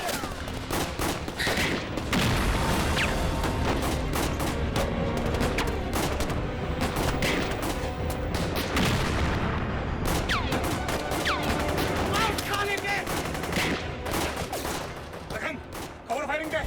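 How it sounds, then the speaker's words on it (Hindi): Gunfire in a Hindi TV serial: dense, rapid volleys of shots and bangs go on throughout, mixed with urgent shouting voices. "अरे जब बम्बू आया फायर करो जल्दी"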